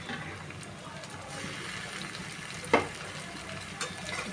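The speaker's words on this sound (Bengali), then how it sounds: "আদাটা দেওয়ার পর সামান্য একটু ভেজে নিলাম, কাঁচা গন্ধটা চলে যাবে।" Ginger paste frying with spices in a pan for mutton mince keeps up a steady, even sizzle, broken by a sharp stirring scrape midway and a softer knock near the end.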